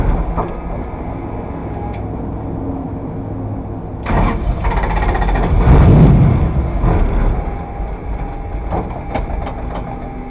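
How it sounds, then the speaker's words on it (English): A Mustang-based endurance race car's engine runs rough and falters as its fuel pump fails, a loud mid-pitched drone that surges and sags unevenly over about ten seconds. "The fuel pump's going out again."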